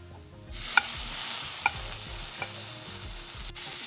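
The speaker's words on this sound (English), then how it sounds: "The onions are nice and gold brownish. Now let's add the tomatoes." Tomatoes dropped into golden-brown onions frying in a pan, the sizzle jumping up sharply and holding steady with a few light spoon taps against the pan, no voices.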